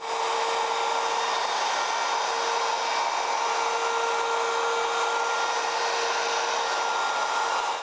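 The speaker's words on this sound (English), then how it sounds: "when you turn off your router" A wood router runs steadily while a neck angle jig is set up for cutting guitar neck and body joints, producing a loud, constant high whine that stays even throughout with no talking.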